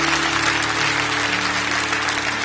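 A church congregation applauds steadily, a dense, even clapping from a large crowd that holds at constant loudness throughout.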